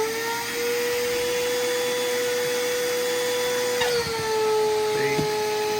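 Vacuum suction on a DIY sandblasting box, with an obstetrics glove plugging the vacuum, makes a steady, close whining drone that shifts down in pitch and strains slightly near the end.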